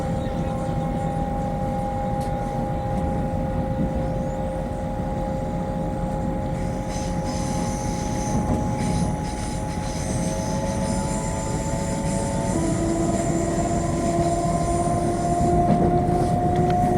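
A passenger train travelling towards York rumbles steadily throughout, a continuous loud interior roar with faint tonal hums that shift and rise near the end.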